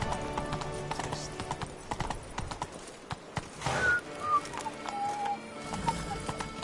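Clip-clop of the horse Roach in The Witcher 3: Blood and Wine, fairly quiet rhythmic hoofbeats under game music with a few bird calls.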